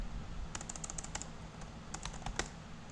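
Typing on a computer keyboard at a terminal gives a quiet run of quick, close key clicks in short bursts with a brief pause mid-way, no talk.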